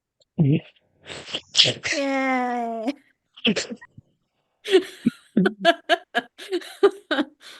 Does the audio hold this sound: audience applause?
no